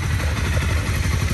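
A Honda CBR250R motorcycle engine idles steadily just after starting, a close, continuous low rumble with a light mechanical clatter and no speech over it.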